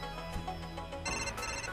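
A phone rings inside the video game Kunai, a bright repeating electronic ringtone that chimes steadily and clearly over the game's background sound, with no talking.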